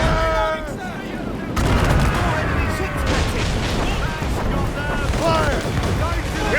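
Ship cannons fire during a naval battle in the video game Assassin's Creed Rogue, a loud, rumbling barrage of repeated blasts with voices shouting over it.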